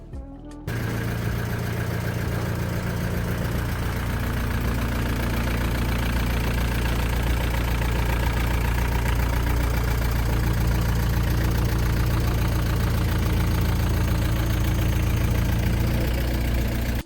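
A VW T4 van's diesel engine idles steadily with a knocking clatter, loud and close, running alone after a brief start.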